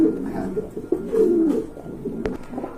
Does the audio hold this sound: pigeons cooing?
yes